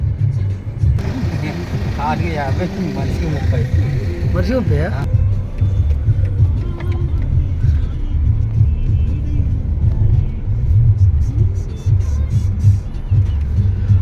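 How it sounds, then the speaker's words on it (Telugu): A car drives past on the road at the entrance to Bogatha waterfall, a loud low engine rumble swelling and passing close by, with people talking over it. "చూడండి కారు వెళ్తున్నది"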